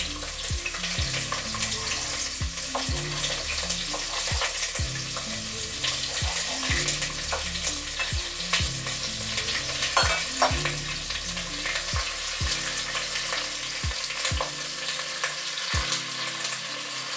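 A shrimp and squid stir-fry cooks over a fire with a constant bright sizzle, punctuated by regular knocking strikes of a utensil on the pan, roughly one each second.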